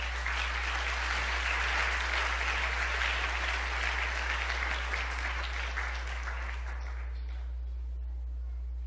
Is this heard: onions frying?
no